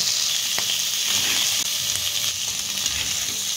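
Potatoes and crushed peanut powder sizzle steadily in a hot pan while being stirred together for a fasting-day potato bhaji. The frying hiss is loud, close and continuous, with occasional soft scrapes from the mixing.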